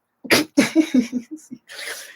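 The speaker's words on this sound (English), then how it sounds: "excuse me, I'm sneezing" A person sneezes indoors, giving one sharp burst followed by a quick series of smaller sneezes and sniffs. Each is close and clear, with a brief breathy exhale at the end.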